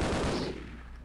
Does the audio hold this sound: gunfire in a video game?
yes